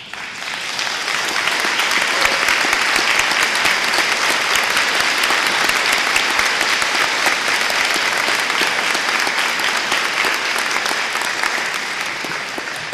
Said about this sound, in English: We humbly applaud you and thank you for your service